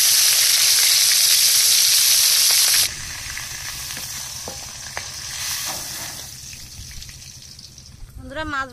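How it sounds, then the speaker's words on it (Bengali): Dried chillies, whole cumin and garam masala hit hot oil left from frying fish, producing a loud, fierce hissing sizzle that drops abruptly to a quieter, steady crackle. "মাছ ভাজা তেলের মধ্যে শুকনো লঙ্কা, গোটা জিরা আর গরম মশলা ভেজে নেব"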